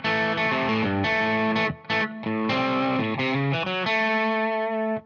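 An electric guitar with a distorted tone plays the opening bars of a groove, a choppy riff of repeated notes with brief gaps, loud and close, ending on a ringing sustained chord.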